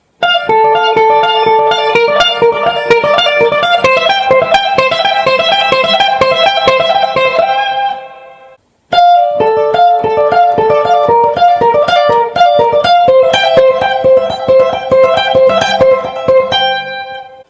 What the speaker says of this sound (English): So it's a 2-string sweep there.